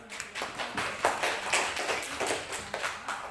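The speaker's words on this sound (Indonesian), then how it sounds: "kita beri aplaus untuk penanya dan yang memberikan jawaban" A classroom group applauds a questioner and the person who answered, with dense, continuous hand clapping from several people nearby that holds steady throughout.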